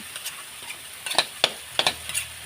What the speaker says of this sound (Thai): เติมน้ำล้างครกอันนี้ยายน้อยใช้ไฟอ่อนแล้วนะคะเนี่ย